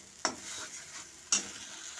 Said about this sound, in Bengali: আমি অনবরত এটা নাড়তে থাকবো যত কাঁচা গন্ধটা না যতক্ষণ যাচ্ছে